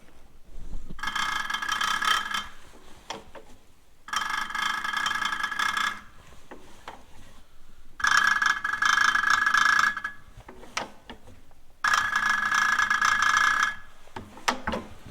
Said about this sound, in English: You can really hear the nozzle open and shutting.